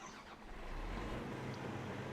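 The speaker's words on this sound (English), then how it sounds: "it is a John Deere harvester here" A John Deere harvester engine in Farming Simulator 17 turns over and settles into a deep, steady rumbling idle that builds and holds loud throughout.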